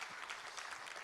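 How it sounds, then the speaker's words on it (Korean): Church congregation applauding after a sermon reading, a faint, dense and continuous patter of many hands clapping at a distance. "우리 하나님께 감사와 영광의 박수를 돌리겠습니다."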